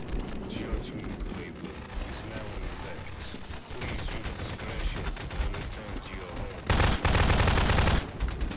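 Rapid bursts of automatic SMG fire in a Gmod match, clattering in dense volleys with a heavier, louder barrage near the end, under occasional talk.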